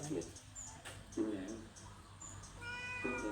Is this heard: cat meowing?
yes